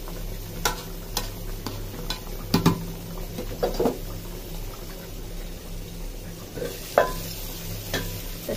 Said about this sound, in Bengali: শেষ বেগুন ভাজা।